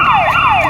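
A loud, close wailing siren sweeping up and down in pitch, heard alone over a short burst.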